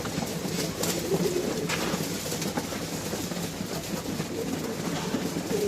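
Pigeons coo softly while feeding, low murmuring calls over a steady dense background of shuffling and faint ambient noise, close and continuous with no talk.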